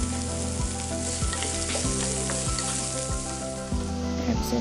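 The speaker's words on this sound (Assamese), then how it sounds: "পিঁয়াজখিনি মই ভাজিম ব্ৰাউন হোৱালৈকে।" Onions fry in a hot karahi until brown, a loud continuous close sizzle broken by regular stirring scrapes roughly every second.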